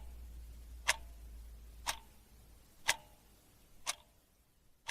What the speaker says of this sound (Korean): 어둠 속에서 시계만이 째깍거렸다.